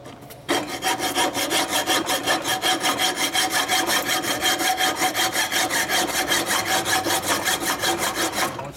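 A dull hacksaw cuts through metal while working on a 1972 Harley-Davidson XL Ironhead Sportster bobber, giving loud, close, steady back-and-forth rasping strokes in an even rhythm for about eight seconds after a brief pause.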